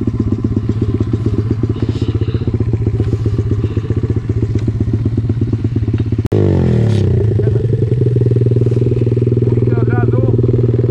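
Close by on a sandy track, a dirt motorcycle revs hard with a rapid, rattling engine pulse. Partway through, a sharp clunk breaks in, then the engine climbs again, with clattering and scraping mixed in.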